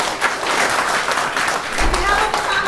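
Audience applause rises during a company leaders' gathering, a dense wash of clapping from many hands, steady and fairly loud with brief swells, under crowd murmur.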